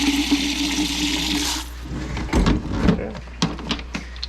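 Water rushes into a rock tumbler barrel for a stage 1 batch of large stones, a steady pour for about a second and a half followed by clunks and handling knocks.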